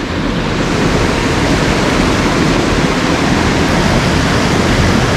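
Fast water rushing over the back end of a small trout stream pool, a steady, loud broadband wash that stays constant throughout with no gaps.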